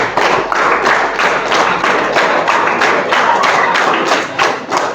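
Children clap the 'tepuk 13' routine together at a Ramadan holiday school in a mosque, a loud group of rhythmic, sharp claps in fairly even beats with brief pauses between bursts.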